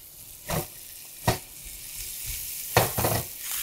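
Chopped ginger, green chili, cumin and fennel frying in a pan for onion kachori filling, a low sizzle broken by several sharp scraping stirs of a spoon, close and without talk.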